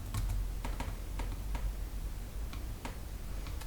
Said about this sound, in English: You'll hear me clicking a lot.